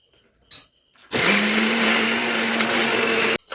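A kitchen mixer grinder whirring through red chutney, starting after a short clatter and running as one loud, steady, close whine for about two seconds before cutting off abruptly, with no talk.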